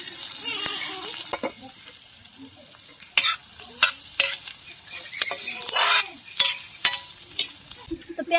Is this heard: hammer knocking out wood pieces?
no